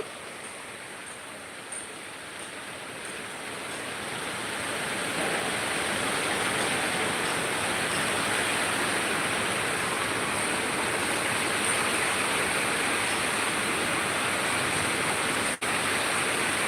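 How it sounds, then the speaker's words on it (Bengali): Rain falling steadily in Dhaka, a dense unbroken hiss that swells louder after the first few seconds and stays constant, with no talking. "বৃষ্টি দেখতেই পাচ্ছ"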